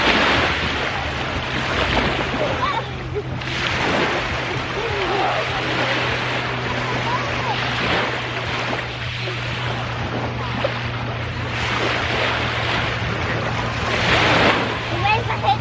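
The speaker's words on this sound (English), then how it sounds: "The waves are hitting me." Ocean waves wash steadily against a pier over the Black Sea, a continuous surf roar with periodic swells and wind buffeting the microphone, a low hum running underneath throughout.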